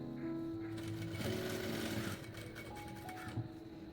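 A sewing machine stitches a V collar neck in a quiet, steady whir with a brief pause and slight shifts in pitch partway through.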